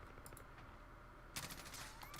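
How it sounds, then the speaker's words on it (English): Faint bursts of Rainbow Six Siege gunfire in an esports match, a couple of quick shots early then a louder rapid volley, distant and thin. "gunfire going off everywhere"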